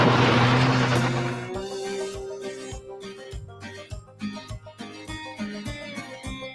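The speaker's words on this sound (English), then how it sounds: "Oh, another car." A car passes on a rural road, its engine and tyre noise swelling loud and close at first, then fading away behind steady music.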